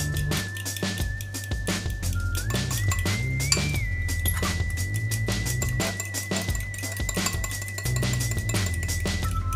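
Beaten eggs seasoned with pepper and salt are whisked briskly in a bowl, giving rapid, steady clinking strokes that repeat throughout over faint background music.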